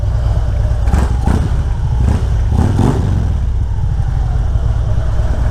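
A motorcycle engine hums and rumbles while riding in Belgium, with a few louder revving surges and steady road noise underneath.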